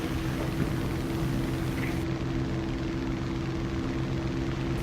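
Aircraft engine held at cruise throttle in the War Thunder combat flight game, a loud steady propeller drone with a constant low hum and no change in pitch throughout.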